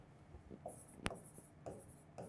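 Pen writing figures on paper while working an accounting solution, several short scratchy strokes with one sharper tap, close and quiet, no talk.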